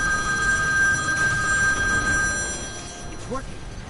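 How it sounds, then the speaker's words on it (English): A telephone rings with a steady electronic tone under game background sound during a Destiny: Rise of Iron walkthrough, then stops as a voice speaks briefly. "Sorry, that's my phone."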